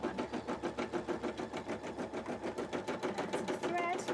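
A sewing machine fitted with a beading foot stitches thread in a fast, even mechanical chugging rhythm that runs steadily for several seconds, close up, with a brief voice near the end.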